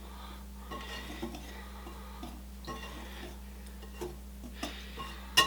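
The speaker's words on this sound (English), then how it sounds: "we're just going to whisk this together here until it's just combined" Dry ingredients with salt and black pepper are whisked together in a bowl for Swiss beer bread, with soft steady scraping and light clinks of the whisk against the bowl, close and quiet, under a low background hum.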